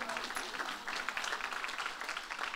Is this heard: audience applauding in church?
yes